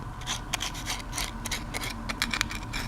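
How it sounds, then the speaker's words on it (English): Sandpaper rubs gently in short, repeated raspy strokes around the edges of a paper card model of a Messerschmitt, close and fairly quiet, with no talking. "So I'm going to take some sandpaper and just very gently go around it and try to round off the edges"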